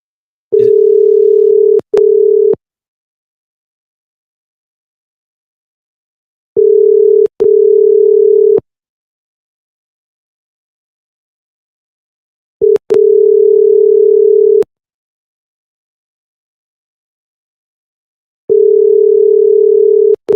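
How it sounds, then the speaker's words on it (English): A telephone rings back with a European-style ring tone: a steady low buzzing tone in long double pulses, repeated four times with long silent gaps between. It is loud and clear, with no talk. "his phone rings like it's a European phone"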